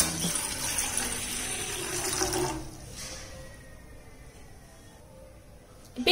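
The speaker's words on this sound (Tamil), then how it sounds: "டீடாக்ஸ் வாட்டருக்கு ஒரு பாத்திரத்துல ஒரு கப் அளவு தண்ணி சேர்த்துக்கலாம்." A cup of water is poured into a pot for detox water. A close, splashing stream runs for about two seconds, then fades to a quieter trickle.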